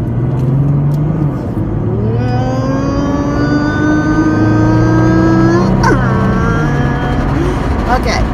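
Car interior noise on a drive to collect mail, a continuous engine hum with rising and falling tones as the car accelerates and shifts, loud and close throughout.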